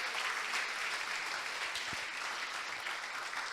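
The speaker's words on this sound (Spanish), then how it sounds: "No sé cuántos pueden darle un fuerte aplauso al Señor" Sustained applause from a church congregation during a Christian sermon, a dense, steady wash of many hands clapping at once that holds evenly throughout, with no talk over it.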